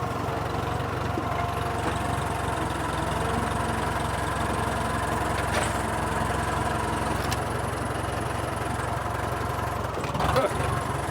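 An old tractor's engine runs steadily and continuously at close range with a low rumbling drone, while people talk over it now and then.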